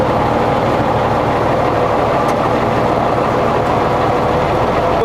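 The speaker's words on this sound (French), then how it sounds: "Moteur à 1100 tours" An M35 A1 deuce 6x6 military truck engine held steady at 1100 rpm on the hand throttle while driving the winch, a loud, continuous low rumble close by with no talk.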